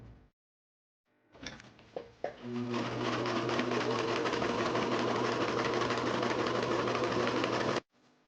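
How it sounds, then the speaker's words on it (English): A sewing machine stitches a straight line along folded fabric straps, starting with a few clicks and thumps before settling into a loud, even, continuous mechanical whir up close that stops abruptly near the end. "and then sew a straight line"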